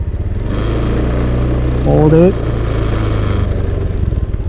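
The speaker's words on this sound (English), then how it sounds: "twist the throttle a little bit and hold it." A small scooter engine idles steadily, then briefly rises in pitch as the throttle is twisted, before settling back to a low putter.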